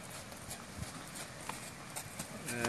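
Horse hooves clip-clopping at a riding ground in Paka, Terengganu, Malaysia, a steady walking rhythm coming closer and growing slightly louder over a broad outdoor background.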